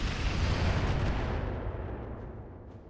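Missiles fire and explode in the RogueTech mech video game, a deep rumbling blast that booms loudly and then slowly fades over a few seconds.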